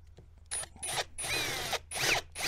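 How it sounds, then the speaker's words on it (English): A power drill pre-drilling screw holes around the outside of an aluminium window frame, sounding in five short whirring bursts separated by brief pauses, close and alone. "I'll just pre-drill all of them around the outside"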